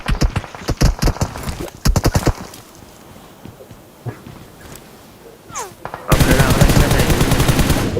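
Rapid bursts of video game gunfire, several tight automatic volleys, then a quieter stretch with a few scattered shots before a loud sustained stream of fire; voices are barely present.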